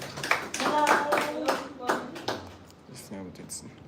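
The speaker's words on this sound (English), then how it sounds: "Please, can we give him a round of applause?" Audience applause at a live breakfast conference as a guest is welcomed on stage, scattered claps mixed with voices and talking, loudest early and fading toward the end.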